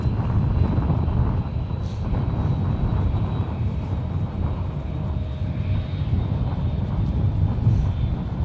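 A Delta airliner lands on runway 28 right at San Francisco International Airport, heard as a steady, broad engine and wind roar that holds at a near-constant loudness throughout, with no talk.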